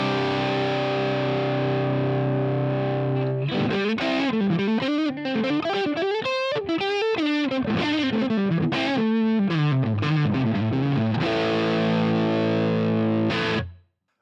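Les Paul electric guitar on its middle pickup position, played straight into a Marshall Plexi amp model: a sustained distorted chord rings out, then a busy run of overdriven single notes and riffs, ending on a held chord that cuts off abruptly.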